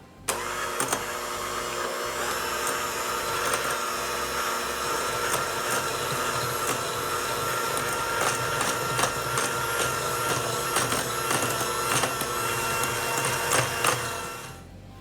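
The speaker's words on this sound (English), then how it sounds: "we're going to use our handheld mixer to mix until they're combined." A handheld mixer beats butter and sugar together in a large bowl, a steady, loud, close-up motor whir with rattling beaters that runs continuously for about fourteen seconds before stopping.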